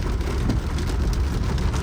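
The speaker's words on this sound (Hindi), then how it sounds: "बहुत तेज बारिश होगी।" Heavy rain pours down steadily in a dense, continuous roar with deep low rumble, loud and unbroken throughout, with no voices.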